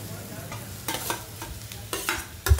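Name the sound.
stirring boiled potato into fried onions in pan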